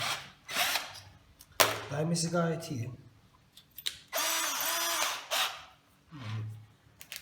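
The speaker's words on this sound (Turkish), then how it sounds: "Matkap bu şekilde." An Einhell TC-CD 18/35 Li cordless drill whirs in several short bursts, revving up and down between pauses, with someone talking briefly in between.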